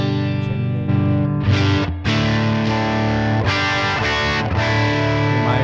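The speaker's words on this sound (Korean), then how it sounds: "마일드한 오버드라이브 사운드죠." An electric guitar played through a mild overdrive preset on a Quad Cortex modeler rings out with sustained, slightly gritty chords and notes, loud and close, with no speech.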